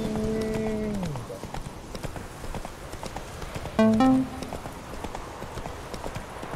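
Horse hooves clip-clop in a quick, steady rhythm at close range in The Witcher 3 video game, with a brief horse whinny and a few short tonal game sounds.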